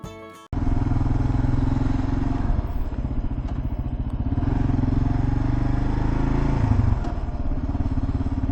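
A motorcycle riding on an open road through Baja, its engine droning steadily and loud close up with wind and road rumble, a short pause in the opening half second before the continuous ride noise takes over.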